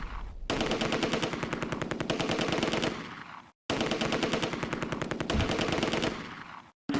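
Mortar and machine-gun fire in the wartime strategy game Close Combat: A Bridge Too Far, on the Arnhem West approach. Two long, loud, rapid automatic bursts are split by a brief silence, and the rattle stays dense and continuous within each burst.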